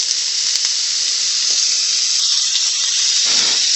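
Onions sizzling in hot olive oil in a pan, a loud steady hiss of frying that holds evenly throughout, with a few faint clinks and a soft stir near the end, no talking.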